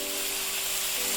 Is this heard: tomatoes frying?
yes